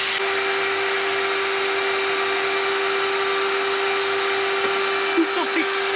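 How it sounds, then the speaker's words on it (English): A vacuum cleaner runs steadily aboard a sailboat, cleaning out a cabin cabinet, with a constant whining motor drone that holds throughout and a few brief knocks near the end. "if he wants to vacuum this entire cabinet, more power to him"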